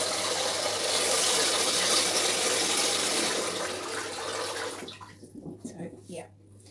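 Lukewarm tap water running to rinse a fresh tattoo, a steady rushing stream that stops partway through, followed by faint handling clicks and rustles.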